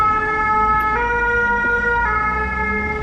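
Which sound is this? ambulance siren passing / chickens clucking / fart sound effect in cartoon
ambulance siren passing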